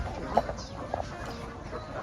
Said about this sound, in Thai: ไอ้อบอุ้มไก่โชว์หน่อย